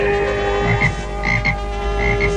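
A cartoon frog croaks in repeated, rhythmic bursts over a steady humming background, nearby and fairly loud.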